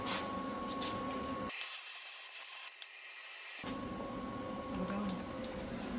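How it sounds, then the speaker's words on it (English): Welding support braces on a Coleman Fleetwood camper, a steady hissing, crackling arc with a brief quieter stretch, heard close. "I'm welding the bottoms across here, bottoms across here"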